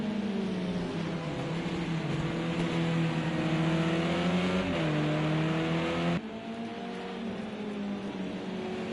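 Touring cars race at Laguna Seca in a racing video game, including a BMW and a Honda: a loud, steady engine drone with rising, sliding pitch as a car accelerates uphill, then a sudden drop in tone near the end, with no talking.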